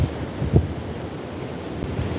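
Ocean surf rolling onto a beach, a steady wash of water with wind buffeting the microphone and one brief surge partway through.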